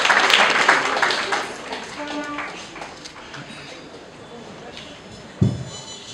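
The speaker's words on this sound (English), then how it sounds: "Let's clap for Nicole as she makes her way" A crowd at a graduation ceremony in Nairobi claps loudly at first, then the applause thins out and fades to near quiet, ending with a single soft thump.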